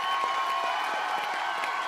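A television game show audience claps for a team leader, a dense and steady burst of applause from a studio crowd that holds loud and even for the full two seconds.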